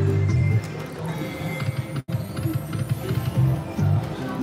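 A horse whinny rings out from a slot machine, followed by rhythmic clip-clop hoofbeats in a noisy casino, with a sharp break near the middle.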